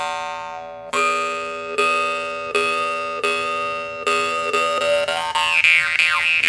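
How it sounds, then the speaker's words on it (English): A bass Maranzano jaw harp, a large, thick framed harp, is plucked in a steady rhythm of about eight twanging, bell-like rings, each followed by a whooshing overtone sweep that grows busier toward the end. "That is bass Maranzano. It actually has two voices. It has a bell ring,"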